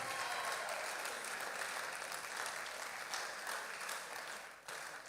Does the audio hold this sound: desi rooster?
no